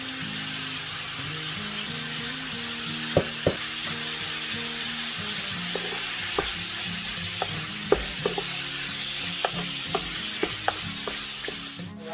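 Bam-i noodles stir-fried with soy sauce and black pepper, a continuous loud sizzle broken by occasional sharp scrapes and taps of a utensil against the pan.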